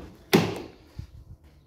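Driver's door of a 2010 Nissan Juke being opened, a sharp latch clack followed by a short rattling swing and a soft thud, close and fairly loud with no voices.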